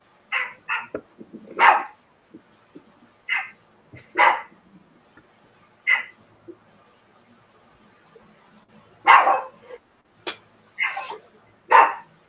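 One dog barks in scattered single and double yaps at moderate distance, with quiet pauses between bursts in a home setting over an online call.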